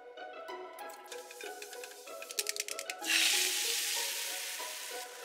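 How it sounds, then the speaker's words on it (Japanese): Egg mixture with shirodashi, mirin and sakura shrimp sizzling in a frying pan for rolled omelette, a soft bubbling hiss that jumps to a louder steady sizzle as more batter hits the hot pan, alongside light kitchen clinks. "今日はフライパンで卵を焼くんだね"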